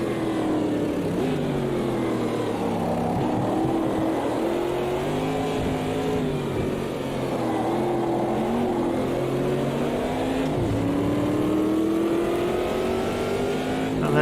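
Corvette race cars in the sim racing game Automobilista 2, engines roaring continuously with rising and falling pitch as they accelerate, shift and brake, loud and steady with no talk.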